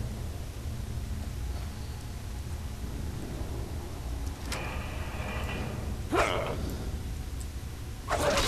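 Dogs bark and snarl while attacking in the video game Skyrim, with a few sharp, close bursts rising over a steady wash of game noise.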